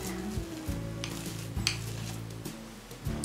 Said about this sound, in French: Bon bah on va bien mélanger et puis c'est tout.